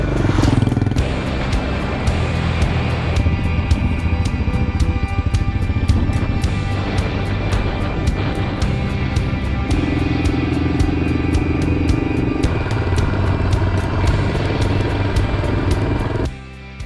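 A Yamaha XT 500 motorcycle rolls downhill from a high mountain pass, its engine a steady, close, continuous drone for the whole ride that cuts off sharply at the very end.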